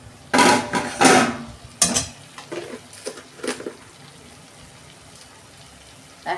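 Metal lid lifted off a cooking pot on a home stove while cooking ash gourd, giving a couple of loud close clanks and scrapes followed by softer knocks and clinks.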